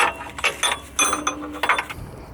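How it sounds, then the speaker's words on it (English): An electric winch hauls an engineless first-generation Chevrolet Camaro up onto a trailer, giving off a close series of sharp mechanical clicks, clanks and ratcheting knocks in an irregular rhythm. "I'm hoping this winch has power to pull up this car"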